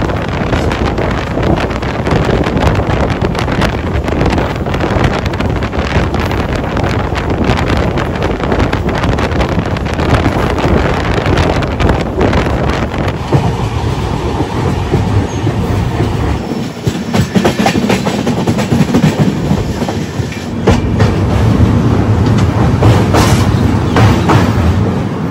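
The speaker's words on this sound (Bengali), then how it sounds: "আর কিছুক্ষণের মধ্যেই ট্রেন ঢুকবে কামাখ্যা রেলওয়ে স্টেশন, তারপর আসবে গুয়াহাটি।" The Saraighat Express passenger train runs loudly toward Kamakhya station near Guwahati, with rhythmic clickety-clack, occasional wheel squeal and heavy wind rush throughout.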